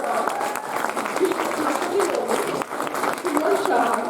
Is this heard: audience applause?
yes